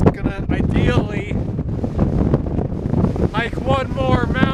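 Strong gusty wind buffets a microphone on a mountain hike, roaring and rumbling close up while a person talks over it in bursts.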